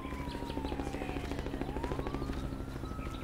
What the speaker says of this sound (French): Il y a des hélicos et tout là